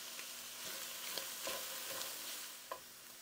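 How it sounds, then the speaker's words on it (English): Italian sausage browning in a skillet gives a steady, quiet sizzle, with a few soft scrapes and taps of a utensil stirring it now and then. No one speaks. "I'm just going to cook this sausage until it's completely browned"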